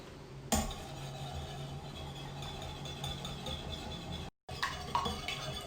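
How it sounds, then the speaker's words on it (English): Whisking Worcestershire sauce and ketchup together in a bowl gives a steady stream of light clinking and scraping against the bowl, with a brief pause near the end before it resumes. "And whisk."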